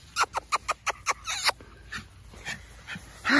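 A Lakeland Terrier straining on its leash lets out a quick run of sharp, whimpering yips close by, then quieter whines and a final louder burst.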